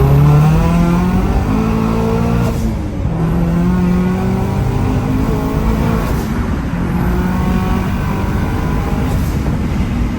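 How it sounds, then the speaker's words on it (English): A turbocharged Scion FR-S pulls hard across a bridge in Tempe, Arizona, its engine note climbing steadily through the gears with brief dips at the shifts, loud and close with no voices. "I'll throw in this little clip from my phone of doing a pull on a bridge in Tempe"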